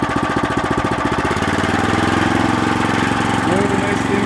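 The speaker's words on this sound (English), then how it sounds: "give it a pull, start it up. Get the throttle going." A Eurosystem RTT3 tiller's small engine pull-starts with a rapid chugging beat, then revs up into a loud, steady close-range roar with rising throttle.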